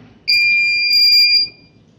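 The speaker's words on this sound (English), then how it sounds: "And secondly, I have a buzzer" A buzzer on a small collision-prevention robot sounds one shrill, steady, piercing electronic beep lasting just over a second, close and loud, then cuts off into quiet.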